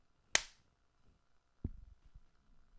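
A single sharp hand clap for recording sync rings out close and crisp in a quiet room, followed a moment later by a dull soft thump and faint shuffling.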